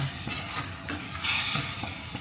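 Sardine pasta sauce being stirred in a pan, with steady soft scraping and a light sizzle running through the whole stretch, close and moderately loud, no voices.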